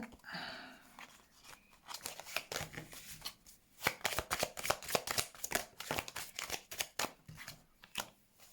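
A tarot deck shuffled and laid out, heard as dense bursts of papery card slaps and flicks, close and fairly loud, with a short murmur of speech near the start.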